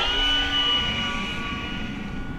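An E-flite P-51D Mustang 1.5m RC plane flying overhead on a windy day, its electric motor giving a steady, continuous whine and drone throughout, with faint wind noise underneath.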